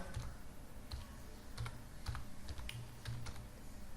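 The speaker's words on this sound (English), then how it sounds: "For this, I have typed here select a file" Quick bursts of keystrokes on a computer keyboard, irregular clicks grouped into short runs, close but quiet, with no voices.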